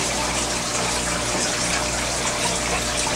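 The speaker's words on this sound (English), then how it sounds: "So while I'm changing the water on this tank" Water pours and gushes steadily during an aquarium tank water change, a loud continuous splashing flow like a running tap or pump filling the tank.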